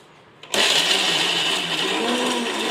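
A mixer grinder whirs to life after a brief quiet start, grinding coconut and jaggery for coconut halva, running loud, close and steady to the end with no talk.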